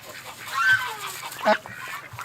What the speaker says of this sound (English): I've never heard her quack like this before